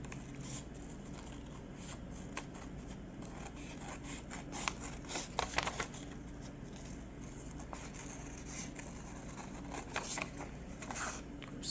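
Scissors cut out a magnetic bookmark, giving soft, close snips and rustling scrapes against a low steady background hum, with a few slightly sharper snips near the middle.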